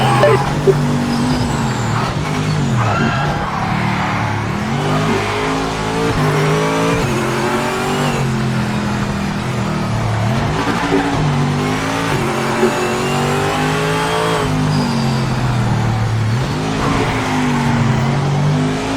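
C6 Corvette race car lapping the Nürburgring GP circuit in a racing sim, its engine loud and continuous, revving up and dropping repeatedly through gear shifts and braking zones, with faint talk underneath.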